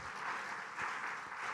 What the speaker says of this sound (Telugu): చప్పట్లతో దేవుని స్తుతిద్దాం.